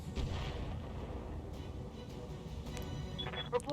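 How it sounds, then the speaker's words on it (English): Missiles launching in the BattleTech video game, a dense continuous rumble of artillery-like blasts and booms rolling throughout, with a sharper crack near the end. "We're gonna continue throwing missiles though."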